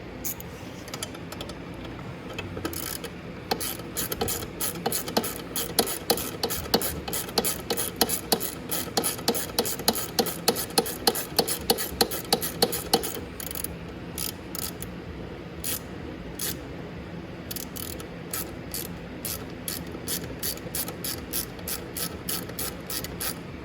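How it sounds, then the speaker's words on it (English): Ratchet wrench tightening 10 mm bolts on a 1000 W electric ATV during a chain change, a fast run of close, crisp clicking bursts repeating through most of the span, with no talk. "So now I can go ahead and tighten down my 10 mils here."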